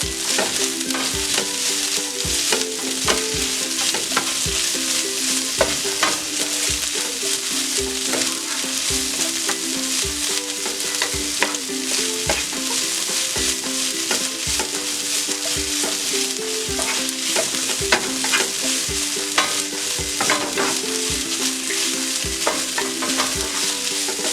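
Onions and sweet peppers stir-fry for fried rice with tofu and vegetables: a loud, constant sizzle punctuated by rapid, rhythmic clacks and scrapes of a utensil against the pan, repeating steadily throughout.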